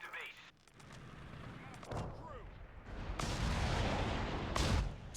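Artillery barrage in a WWII real-time strategy game, with British Crusader tanks and a Panzer IV on a corridor-filled map: repeated booms and rumbling impacts building to a dense, loud salvo, with a voice talking over it.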